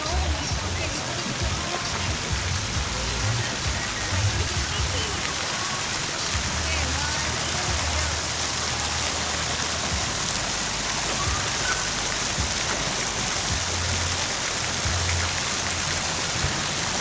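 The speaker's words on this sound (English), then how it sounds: "And it's 7 o'clock in the morning and it's raining." Steady morning rain falls in Bali, seen from a second-floor room, a dense and even hiss that holds without pause at close range and has no talking over it.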